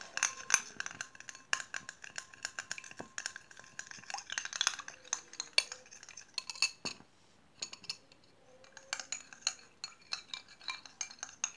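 A spoon clinks and scrapes against a bowl while a homemade face mask mixture is stirred, quick irregular taps and rattles, close and fairly quiet, with brief pauses between bursts of stirring.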